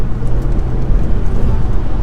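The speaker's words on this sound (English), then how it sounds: "Rev matching." A low, steady engine drone and road rumble from inside a high-mileage Audi A3 1.8T being rev-matched on a downshift, continuous and close throughout with no distinct peaks.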